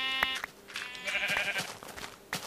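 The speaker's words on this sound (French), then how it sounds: "Tiens, mouton, montre-moi ta laine." Sheep in the video game Minecraft bleat several times in short, nasal calls, close and clear with no talk over them.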